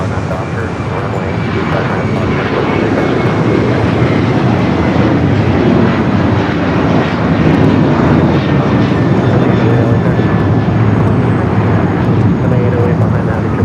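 A jet engine roars steadily at close range as an Alaska Airlines heavy jet bound for Costa Rica moves at Los Angeles International Airport, a broad continuous rumble that swells slightly midway and holds to the end, with radio talk faint underneath.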